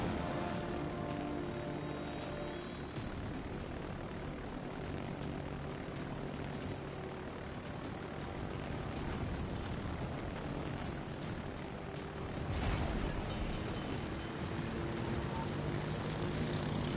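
Fighter aircraft engines drone continuously in the naval battle game World of Warships Legends, a steady propeller roar that swells slightly near the end amid background battle noise.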